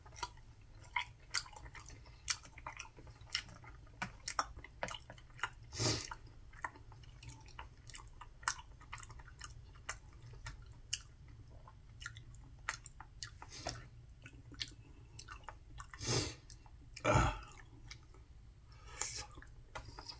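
Soft wet chewing and squishing of eel fish cake eaten in a mukbang alongside black bean noodles, faint and close, with scattered clicks and a few louder smacks over about twenty seconds.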